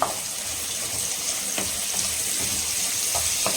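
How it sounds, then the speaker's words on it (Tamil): Onions and green chillies frying in a pan give off a continuous moderate sizzle with a few soft pops and faint stirring, steady from start to finish. "வதக்கலாம். ஆனியன் நல்லா வதங்கட்டும்."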